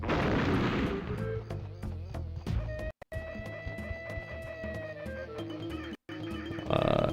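Orange grenades thrown and exploding in Donkey Kong 64, a series of punchy game blasts and thuds over tonal music, with brief silent gaps between bursts.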